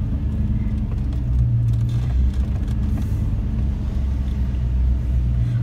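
Inside a car driving on the Bristol Motor Speedway track during a Christmas lights event, a constant low engine and road rumble holds steady without a break.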